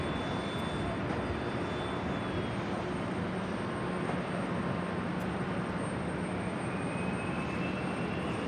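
A jet airliner arriving at JFK airport in New York roars steadily and loudly throughout, its engines holding a constant broadband rumble with a faint high whine, no voices present.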